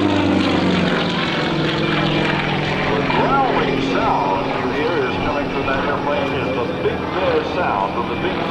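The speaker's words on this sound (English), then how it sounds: "The growling sound you hear is coming from that airplane" A Sukhoi aerobatic airplane with a geared 500 hp nine-cylinder radial engine growls overhead at an airshow, a loud, rough propeller drone that rises and falls in pitch as it maneuvers, with a commentator talking over it.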